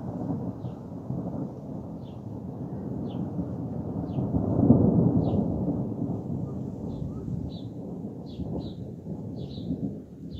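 Loud rolling thunder rumbles through a strong thunderstorm, a deep sustained roar that swells midway, with light rain and faint high ticks in the background.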